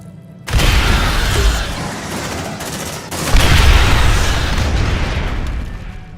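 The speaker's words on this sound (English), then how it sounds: "Grenade!" A grenade blast in the sci-fi video game Aliens: Dark Descent booms loud and close, then a second heavy explosion rolls in amid rapid gunfire and rumbling debris, with no speech over it.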